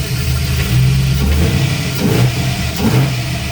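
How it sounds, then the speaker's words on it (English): A car engine with an 8707 Summit cam and 102mm intake idles roughly, then revs up in several short bursts, loud and close, with no talking. "Still got that tinny intake sound"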